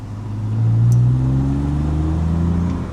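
A manual transmission car engine revs loudly and up close, a sustained boomy mid-low drone that swells and holds steady for a few seconds with no talking.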